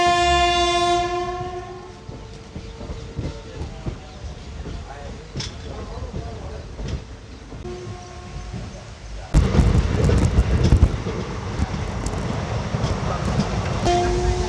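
An Indian Railways diesel locomotive from the Gandhidham loco shed, on a Dhola to Veraval run, sounds a long harmonic horn blast at the start, then rolls on with steady rail rumble that swells louder and rougher near the end.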